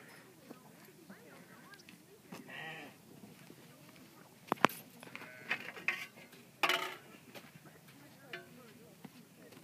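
Sheep bleating during a herding session with a Briard, a couple of short bleats at moderate distance amid faint rustling, a few sharp clinks and some quiet talk.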